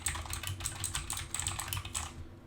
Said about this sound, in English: Let's try a keyboard test.